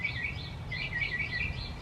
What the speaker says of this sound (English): the birds are saying hi too